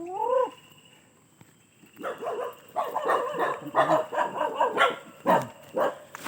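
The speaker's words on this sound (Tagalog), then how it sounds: "May mga aso." Several dogs bark outdoors in a rapid, uneven series of yaps and woofs. A short whine comes first, and the barking stays fairly close with steady background noise underneath.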